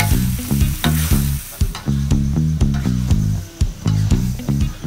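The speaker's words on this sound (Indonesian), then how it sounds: "Aduk lagi sampai semuanya tercampur rata." Spicy risol filling with weaver ant eggs is stirred in a hot pan, giving a loud, steady sizzle broken by rhythmic scraping and clattering strokes of a utensil against the pan.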